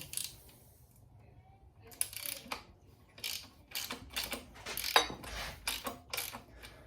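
Ratchet with a 13mm socket loosening alternator bolts on an LQ4 6.0 engine during a rebuild, a series of quick clicking ratchet strokes up close, starting faintly then in repeated bursts.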